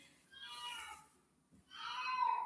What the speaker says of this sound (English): Oh, the cat is crying.